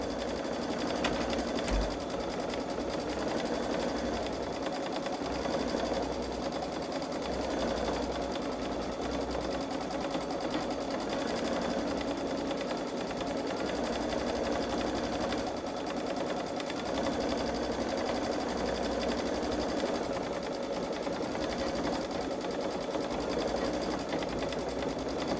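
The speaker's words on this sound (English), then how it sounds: "This edge-to-edge quilting has been fun." A Babylock Solaris Vision sewing machine stitches an edge-to-edge star quilting design, a steady continuous mechanical hum and rapid needle rhythm running unbroken throughout, close and even.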